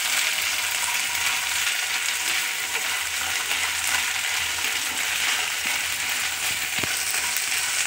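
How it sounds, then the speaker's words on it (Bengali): Onion frying with ginger paste in a pan gives a steady, bright sizzle that runs unbroken throughout, with a couple of faint utensil clicks near the end and no voices. "ভাজা হচ্ছে আদার সঙ্গে দিয়ে।"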